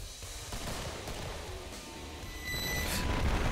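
Pipe bombs going off in the video game Killing Floor, a dense rumbling roll of blasts and crackling bursts that swells louder near the end, with no talking.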